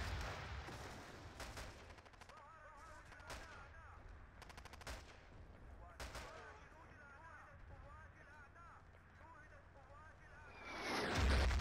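Artillery fire in a Battlefield 2 conquest match comes as scattered blasts and gunshot bursts, moderately loud and mixed with other game sounds, with a louder rumble right at the end.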